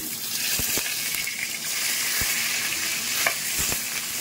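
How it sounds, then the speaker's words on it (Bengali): Fish frying in a pan, a steady close sizzle with a few sharp pops and light stirring clicks, no one talking. "দেখো মাছটা ভাজা বসিয়ে দিয়েছি"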